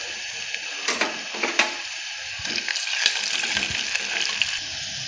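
Lightly browned onion, cumin and freshly added ginger pieces fry in a pan for pulao, giving a steady, close sizzle broken by occasional scraping clicks of stirring.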